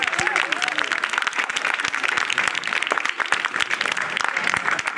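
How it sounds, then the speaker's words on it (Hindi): A hall full of students gives guests at a school lecture dense, sustained applause that stays steady and loud throughout, with a voice faintly audible at the start. "तालियों की गड़गड़ाहट बहुत जोरदार होनी चाहिए।"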